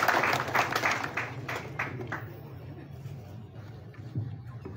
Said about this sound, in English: a very big hand clap for her.